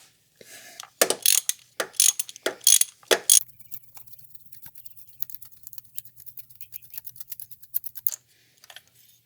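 A ratchet with a 5/8 deep well socket loosening a spark plug on a 2011 Cadillac SRX 3.0 LF1 engine, a few sharp close clicking strokes, then a long run of rapid fine ratchet clicks, no talking.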